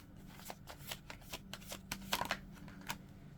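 Tarot cards are shuffled by hand in quick, soft riffling bursts with light taps, close and quiet, with no voices.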